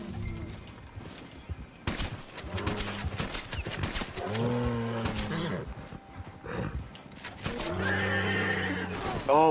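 In Red Dead Redemption 2 Online, a horse whinnies loudly several times over the steady clatter of hooves, with a brief lower roar from a legendary animal mixed in and a voice heard faintly beneath.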